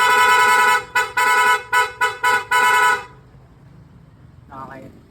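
A PIAA horn on a Honda ADV 160 scooter sounds in rapid-horn mode: a loud, close series of fast staccato honks with brief gaps for about three seconds, followed by quiet background and a faint short voice.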